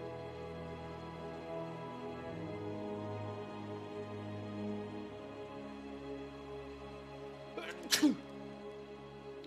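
A single sharp sneeze bursts out near the end, close and loud over a steady tonal background of game music and ambience from Chivalry 2.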